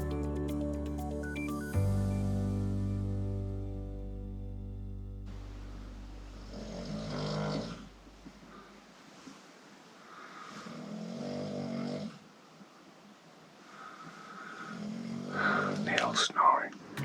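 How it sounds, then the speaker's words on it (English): A person snores in slow, raspy breaths with pauses between them, quiet and close, following a fading sustained musical tone. "Snoring."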